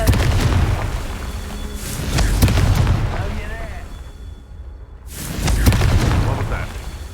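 Repeated blasting-spell explosions from the Hogwarts Legacy video game, deep booming bursts that rumble and fade, with a quieter gap before another loud blast.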